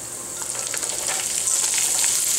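Green chilies frying in hot oil in a pan with cumin seeds, making a loud, bright, continuous sizzle and crackle that grows slightly stronger, heard alone without voices.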